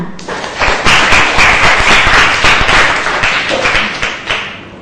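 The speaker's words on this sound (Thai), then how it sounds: "ปรบมือให้ชัยพัฒน์ค่ะ" A classroom full of students clapping, loud and steady applause of many hands lasting several seconds.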